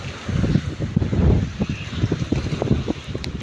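Gusty wind buffets the microphone at sea aboard a fishing boat in poor weather, a rough, continuous rumble with uneven bursts close up.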